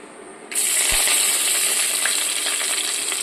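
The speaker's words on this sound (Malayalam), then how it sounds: "ചട്ടി ചൂടായിട്ട് കടുക് പൊട്ടി വന്നിട്ടുണ്ട്" Mustard seeds splutter in a hot pan, a sudden loud sizzle rising at once into a continuous crackle dotted with sharp pops, close and steady.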